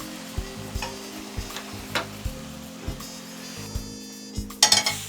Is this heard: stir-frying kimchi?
yes